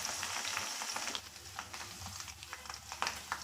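Whole spices and curry leaves fry in hot oil for a soya chunks curry, a steady close sizzle broken by scattered crackles and faint spoon scrapes, heard alone.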